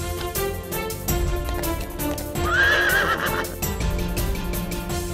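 A horse in an animated film whinnies loudly midway while hooves clip-clop in a steady rhythm throughout, over a busy background score.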